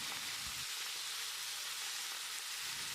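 Thick coconut milk poured into a pan of raw banana masala curry sets off a steady, close hissing sizzle, even and unbroken throughout, with no talking.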